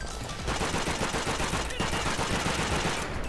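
Rapid MG42 machine-gun fire in the shooter game Call of Duty: World at War, a dense continuous burst of close, loud shots running almost unbroken, with a brief dip near the end and game noise mixed in.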